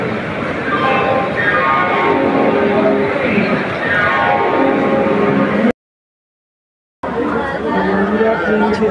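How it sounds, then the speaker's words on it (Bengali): A train pulling out of crowded Howrah station, its steady rumble and wheel noise rising with a loud, continuous din of passengers chattering around it; the sound cuts out briefly before resuming. "ট্রেন ছেড়ে দিয়েছে।"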